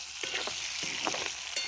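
Meat fries in a pan with a steady, soft crackling sizzle, broken by a few light scrapes and clinks of stirring.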